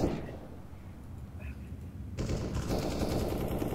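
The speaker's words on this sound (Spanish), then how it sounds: "Ah, mirá ese disparo, boludo." Bursts of video-game gunfire crackle through a busy, noisy mix, growing denser and louder in the second half.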